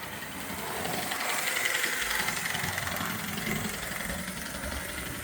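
A restored Rivarossi HO-scale Casey Jones 4-6-0 model locomotive runs along the track with a steady, buzzing motor whir and light rattling, continuous and close.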